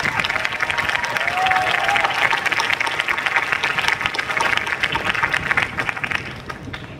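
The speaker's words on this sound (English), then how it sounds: "Let us give them a big round of applause." An audience at a 2015 UCLA chemistry and biochemistry commencement ceremony gives loud, continuous applause mixed with crowd noise, scattered cheers and voices, tapering off near the end.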